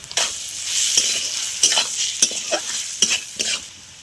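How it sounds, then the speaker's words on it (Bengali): Onion frying in a pan with oil, a bright continuous sizzle broken by sharp, regular scrapes and clinks of a spatula stirring it, close and fairly loud. "পেঁয়াজটা ভেজে নেবো"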